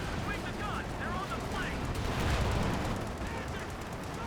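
Gunfire and artillery from a Company of Heroes 2 tank battle, with Sherman tanks, a Panzer IV and a Panzerfaust in play; dense, continuous rumbling fire and scattered shots run throughout under a commentator's voice.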